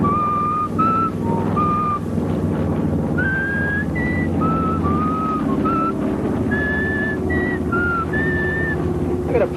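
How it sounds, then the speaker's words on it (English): A person whistles a simple tune in short, clear phrases of rising and falling notes over a steady engine-like drone, with no voices. "I gotta practice up my whistling."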